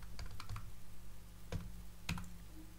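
Short burst of keystrokes on a computer keyboard, a quick cluster of clicks then two separate taps, close and fairly soft over a steady background hum.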